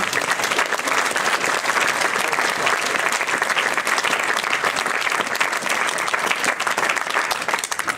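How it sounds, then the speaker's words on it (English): Steady, dense applause from a large audience at a team awards ceremony, loud and sustained throughout without a break. "I want a round of applause for her anyway."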